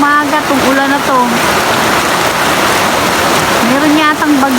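Heavy typhoon rain pours steadily outside a room in a constant dense hiss that fills the whole stretch, with someone talking over it at the start and again near the end.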